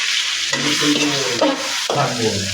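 Ginger and garlic frying with spices in a pan for khichuri, a loud close sizzle with stirring scrapes that come in a few strokes.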